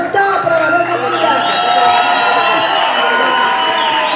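A large crowd at a cumbia concert in Bucaramanga, Colombia cheers and applauds loudly and continuously, with whoops and shouts rising over steady clapping throughout.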